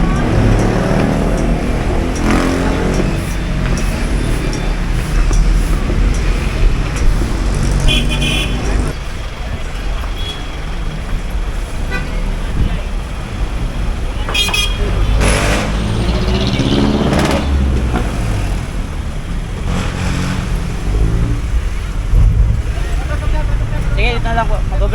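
Riding inside a jeepney in the Philippines: a continuous loud engine and road rumble with rattling and passing traffic, while people talk over it throughout.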